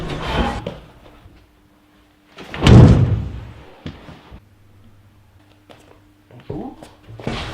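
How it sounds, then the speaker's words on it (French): A door opens with a loud thud and knock during a tense scene, surrounded by quieter bumps, low hum and brief clatter. "J'ouvris finalement la porte."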